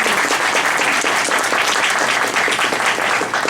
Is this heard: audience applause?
yes